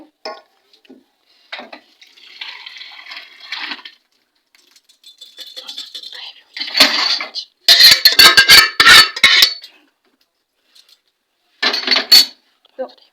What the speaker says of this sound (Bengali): এবার মাংসটা ঢেলে নেবো একটা জায়গার মধ্যে